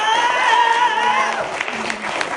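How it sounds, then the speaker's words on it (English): Soft, thin applause from an audience at an anniversary gathering, a steady wash of scattered hands with voices murmuring and calling out over it throughout. "soft, weak applause"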